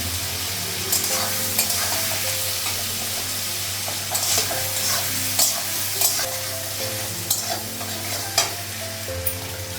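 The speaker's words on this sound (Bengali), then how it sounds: "আলুটা পেঁয়াজটা একসঙ্গে ভেজে নেব" Potatoes and onions frying together in hot oil, a loud, steady sizzle with repeated scraping strokes of a spatula stirring through the pan, close up and without voices.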